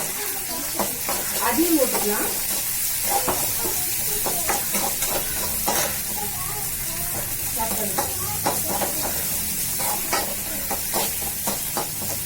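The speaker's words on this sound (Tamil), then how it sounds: "இந்த தக்காளியை போட்டு வதக்கி விட்டுலாம்." Tomatoes sautéing in a pan with a steady sizzle, broken by repeated scraping stir strokes at an irregular rhythm; close and moderately loud throughout.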